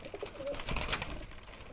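Teddy pigeons cooing in a brief, soft burst of low coos close by, among other domestic pigeons.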